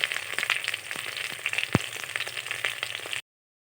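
Slit pointed gourd (potol) frying in hot oil, giving a steady close crackle and sizzle with scattered sharp pops for about three seconds before cutting off.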